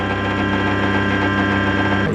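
A PTO-driven hydraulic pump on a Solis SV24 electric tractor runs with a steady, loud mechanical drone and tonal hum, unbroken from start to finish.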